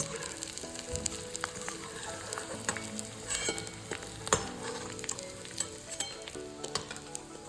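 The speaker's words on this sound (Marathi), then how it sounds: "तुपामध्ये आपण डिंक तळून घ्यायचा आहे" Edible gum (dink) frying in ghee, a continuous close sizzle dotted with sharp crackles and pops and occasional light stirring scrapes.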